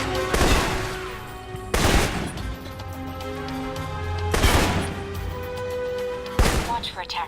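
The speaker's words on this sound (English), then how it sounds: "For long-range encounters, the assault rifle's the key. It's accurate, powerful." Assault rifle fire in the Alpha Protocol video game: four sharp, loud bursts of gunfire, spaced a couple of seconds apart, over a sustained tonal musical background.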